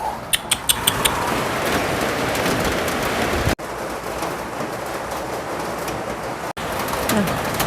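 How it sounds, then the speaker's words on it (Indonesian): Steady rain falls under a dark sky, a dense even hiss that fills the whole stretch, with a few brief bird calls near the start. "Nah, hujannya turun ya teman-teman."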